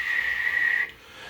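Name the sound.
voice imitating whistling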